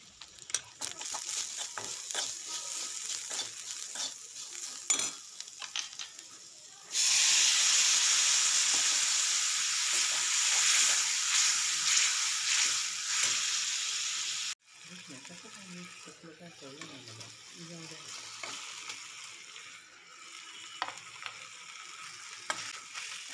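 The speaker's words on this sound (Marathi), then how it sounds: "तसेच मसाला जळू नये म्हणून थोडेसे पाणी टाकून त्याला छान परतवून घ्यायचे।" Onion masala with chili powder and spices, splashed with a little water, sautés in a pan for chili vada stuffing. It sizzles steadily at first, then erupts into a loud, hissing burst for several seconds before settling back to a softer frying crackle with stirring.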